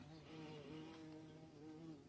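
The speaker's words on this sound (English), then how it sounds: "I can hear a bee behind me." A bee buzzing behind a person, a faint wavering hum that rises and falls in pitch as it moves about, steady for about two seconds, with no voices.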